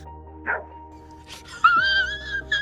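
A dog indoors giving a short bark followed by whining, rising yelps close by over a steady electrical hum.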